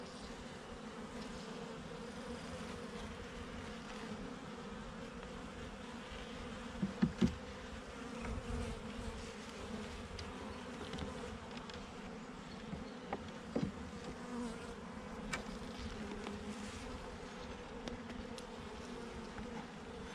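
Honeybees buzz in a steady, dense drone around an open hive during an inspection of brood frames and a marked queen, with a few brief louder knocks and handling sounds partway through.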